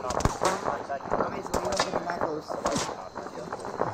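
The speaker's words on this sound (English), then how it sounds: "Shots incoming close." ArmA 3 gunfire cracks repeatedly nearby as sharp, irregular shots and bursts, mixed with radio-style voices talking over the action.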